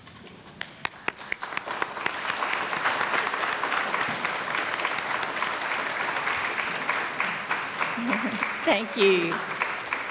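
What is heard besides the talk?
audience applause at a graduation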